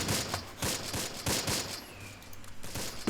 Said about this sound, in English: they're still firing at Mount Vasseur